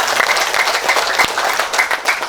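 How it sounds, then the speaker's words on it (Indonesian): A crowd gathered for a Karang Taruna youth organization address in NTT, Indonesia applauds a regent, a steady wash of clapping at moderate distance, with a few sharper claps standing out and no voices on top. "Tepuk tangan untuk Pak Bupati dulu."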